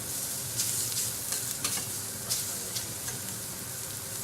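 Steady hissing sizzle from food on a hot plancha griddle at a chef's cooking demonstration, broken by several sharp metal spatula scrapes and taps, close and fairly quiet, no voices.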